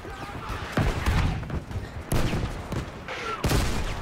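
Battlefield V gameplay with artillery and gunfire, repeated heavy booms about every second over a steady backdrop of rattling shots and battle noise.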